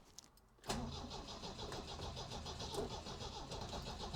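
A supercharged MGB's engine turns over briefly, then catches and fires into a loud, steady idle that holds with an even mid-pitched drone and slight unevenness, heard close with no talking.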